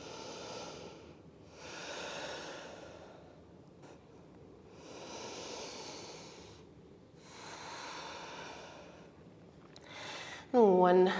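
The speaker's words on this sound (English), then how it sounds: "3 more breaths." Deep yoga breaths during a vinyasa flow come as slow, even cycles of airy inhales and exhales, close and soft, with a voice starting to speak at the very end.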